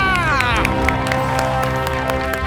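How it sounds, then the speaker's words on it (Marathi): An audience claps loudly during a comedy circus stage show, with dense, continuous applause and crowd noise under lively voices and ringing tones. "एकदा जोरदार टाळ्या वहिनींसाठी झाला पाहिजे."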